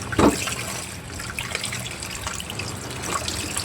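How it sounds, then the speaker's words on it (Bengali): Hilsa fish are washed under running water, with a steady close stream and splashing, plus a brief louder splash near the start. "এখন ধুয়ে পরিষ্কার করে নিচ্ছি মাছগুলো"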